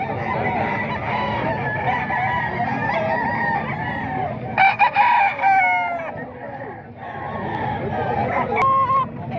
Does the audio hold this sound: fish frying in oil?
no